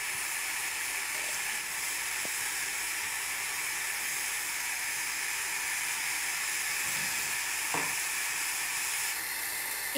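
Steady hiss and sizzle of semolina vermicelli frying in a pan as water is poured in, an even, continuous crackle with a few faint stirring knocks.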